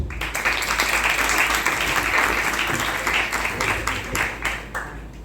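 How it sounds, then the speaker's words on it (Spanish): Sustained applause from a conference audience at a university lecture on Latin American studies, loud and steady throughout, tapering slightly near the end. "Un aplauso."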